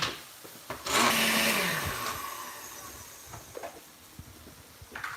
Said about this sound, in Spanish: vamos a licuar lo que acabamos de llevar al vaso de la licuadora